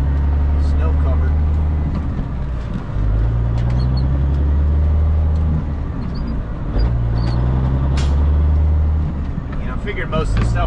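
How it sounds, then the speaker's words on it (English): Kenworth K100E Aerodyne cabover truck driving on snowy roads, a steady low engine drone with road rumble throughout, with a person talking over it. "Yeah, this truck does pretty good in the snow."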